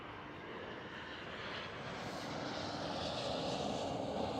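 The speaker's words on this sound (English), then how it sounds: "KLM Cityhopper E190." A KLM Cityhopper Embraer E190 regional jet at Amsterdam Schiphol produces a steady engine roar that gradually grows louder, heard alone without voices.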